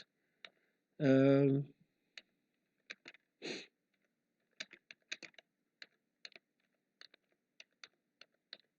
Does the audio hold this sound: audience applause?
no